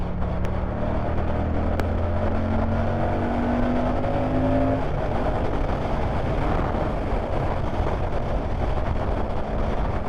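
Steady broadband rush of wind noise riding a Moto Guzzi V100 Mandello motorcycle, with the engine's low hum and a rising pitch as it accelerates, loud and continuous throughout.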